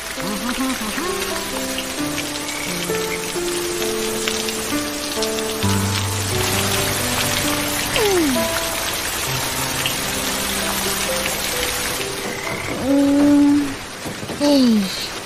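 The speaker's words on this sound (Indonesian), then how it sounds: "Boleh pula hujan lebat tak berhenti-henti" Heavy, nonstop rain in a Minecraft-style animation pours as a dense, steady hiss, with background music and brief voices over it.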